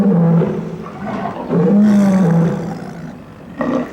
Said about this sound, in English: he moved onto a rock and roared out his royal summons.